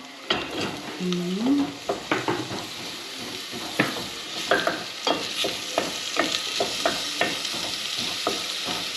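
Onion frying in a pan, a steady crackling sizzle under repeated sharp scrapes and taps of a spoon stirring against the metal, loud and close with no one speaking.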